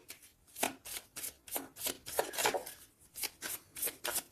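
Tarot cards are shuffled close by in a rapid, steady series of soft papery riffles and slaps, with no talking.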